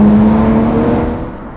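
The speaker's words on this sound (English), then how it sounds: "You click it down a couple of gears, whom, it just revs up and then off you go." Aston Martin Vanquish engine revving hard on a downshift, a loud, close, steady roar with a strong tone that eases slightly as the revs settle, no talking over it.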